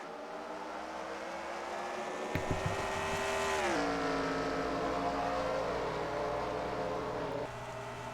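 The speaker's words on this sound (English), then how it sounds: "Drivers, start your engines!" Race car engines fire up in a stock car racing video game at a fictional track. A brief burst of starting revs is followed by a dense, droning roar of many engines idling together, fairly quiet and steady.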